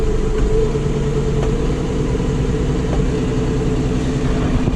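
A tractor engine runs steadily at raised revs on its hand throttle, a loud, continuous droning hum with no pauses or voices.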